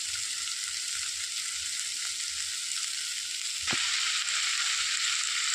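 Ponnaganti leafy greens fry in a pan with a steady, loud, continuous sizzle that swells slightly louder near the end, with a single clink of a utensil partway through and no voices.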